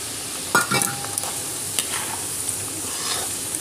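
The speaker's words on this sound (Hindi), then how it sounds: "और इसको थोड़ा थोड़ा सा भून लेंगे, बहुत ज़्यादा नहीं भूनना है" Semolina (rava) is lightly roasted in a pan while being stirred, with a sharp scrape and clink of the spoon at first, then softer intermittent scratching over a steady low hiss, near and without speech.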